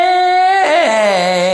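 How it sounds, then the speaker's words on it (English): A singer's voice slides from a steady held tone into a wavering break between chest and head registers, producing a yodel-like flip in pitch, heard close and alone. "that yodeling effect that you hear."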